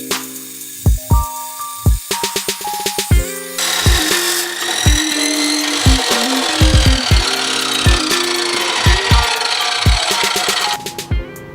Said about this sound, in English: I cut the muffler off.